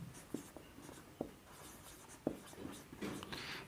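Pen scratching notes onto paper or a board during a maths lesson, with soft irregular strokes and a few sharper taps, close and quiet, with no talk.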